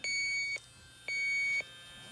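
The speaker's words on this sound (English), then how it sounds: "beeping and the sound of a leak detector here" A refrigerant leak detector beeps in a steady on-off pattern, high-pitched tones about half a second long with brief gaps, close and clear over faint background hiss, scanning a Trane evaporator coil in new construction.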